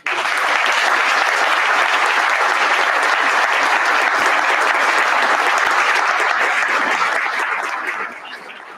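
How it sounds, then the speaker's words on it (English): Sustained, dense applause from an audience honoring inductees at the Williamsville Wall of Fame ceremony, loud and even for about eight seconds before tapering off. "So let's give all of our inductees one more round of applause."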